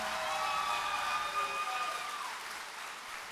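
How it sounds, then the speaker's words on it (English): Convocation audience in a hall applauding a speaker, a soft, distant, steady wash of clapping with faint cheering and a few whistle-like tones riding over it. "let's get a loud round of applause for Mr. C.J. Thomas, everybody"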